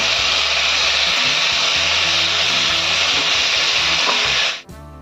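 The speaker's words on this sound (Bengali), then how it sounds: "এটা ভাজা ভাজা হোক" Cut drumstick and green banana fry in hot oil with a loud, continuous close-up sizzle over soft background music, then the sound cuts off abruptly near the end.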